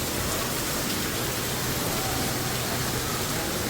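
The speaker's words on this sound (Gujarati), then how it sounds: "ઓહો, કેટલો મસ્ત આવે છે વરસાદ." Rain falls in a steady, dense hiss without a break, loud and even throughout with no voices over it.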